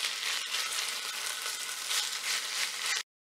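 Shredded chicken sautéing with vegetables in a pan for Colombian arroz con pollo, giving a steady, close, bright sizzle that holds evenly for about three seconds before cutting off abruptly.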